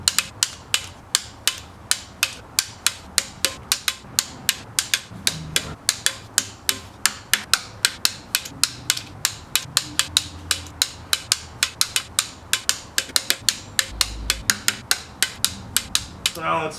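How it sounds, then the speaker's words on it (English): A ratchet wrench clicks in rapid, regular bursts while valve cover bolts are torqued down on a 2003-2010 Saab 9-3 2.0T, close and fairly quiet, with short pauses between runs of sharp ticks. "Alright, so now we're going to torque all these down."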